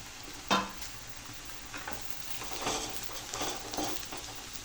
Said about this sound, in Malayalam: പിന്നെ തേങ്ങയും കൂടെ ചേർത്ത് നമ്മൾ നല്ലപോലെ ഒന്നുകൂടെ വഴറ്റുക കേട്ടോ